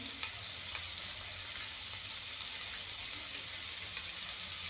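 Manimuni leaf juice is poured into a hot pan while cooking a fish curry, giving a steady close sizzle and bubbling hiss with faint stirring clicks and no voices.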